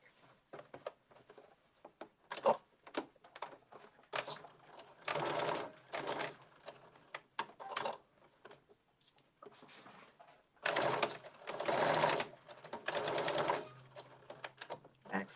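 Sewing machine stitching a 1/4 inch seam on a blazer, running in several separate bursts of varying length with quiet pauses between, close and fairly loud.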